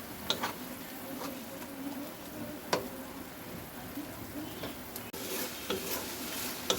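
Maggi noodles with masala seasoning cook in water in a pan, a quiet bubbling sizzle under repeated scraping stirs and occasional light clinks of a utensil against the pan.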